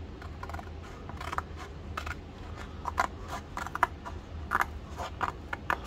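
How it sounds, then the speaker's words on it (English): Blunt-ended scissors snip through two layers of cardboard in a run of short, crisp cuts, close and fairly quiet, with no talking. "I always use blunt-ended scissors so as not to hurt myself."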